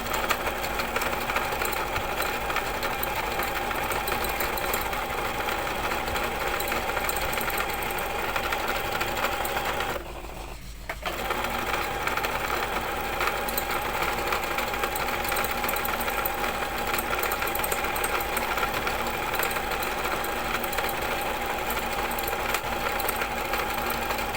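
A sewing machine stitches gathered ruffle fabric in a fast, continuous mechanical chatter that runs for most of the time, stopping briefly once before resuming.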